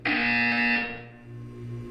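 A single loud electronic buzzer tone from Portal 2 sounds, holding steady for under a second before dropping off into a fainter ringing tail.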